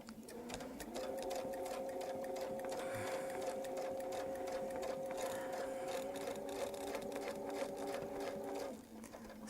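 Quilting sewing machine stitching a Baptist fan pattern, running in one continuous fast whirring burst of about eight seconds at moderate level before stopping, no talk over it.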